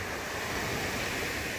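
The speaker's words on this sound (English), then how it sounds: "I'm hoping the rough waves doesn't mean a storm's brewing" Rough lake waves wash steadily onto the shore at Pictured Rocks National Lakeshore in foggy weather, a loud, continuous roar of surf mixed with wind and no voices.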